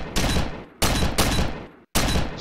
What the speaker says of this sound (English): Yeah, you shoot holes in the wall back there.